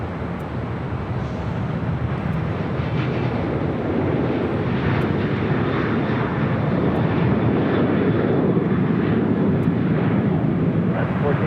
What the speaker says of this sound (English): Hawaiian flight 77, A330-200 heading to Honolulu, heading up here for Northside takeoff